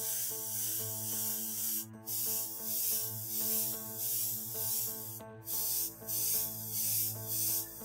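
A double-action airbrush laying black paint over a white area gives a steady, close hiss in long bursts broken by brief pauses, over a low continuous hum.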